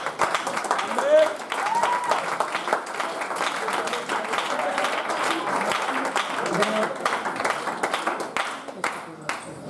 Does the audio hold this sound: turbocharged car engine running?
no